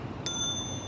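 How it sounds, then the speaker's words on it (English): A bicycle bell gives a single bright ding partway through, its clear metallic tone ringing on over steady traffic noise from a city street in Midtown Manhattan. "so I'd rather ring my bell,"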